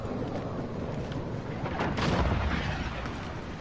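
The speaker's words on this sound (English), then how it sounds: "Allied cruise missile away." Cruise missile launching in a modern first-person shooter game: a sustained loud rushing roar with low rumble that swells and peaks about two seconds in, then carries on as a dense broadband blast with no talk.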